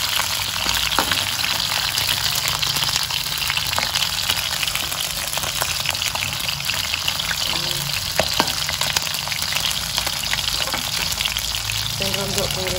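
Food frying in a pan in a home kitchen, a loud, steady sizzle and crackle running throughout with occasional stirring clatter, close up and continuous without talk.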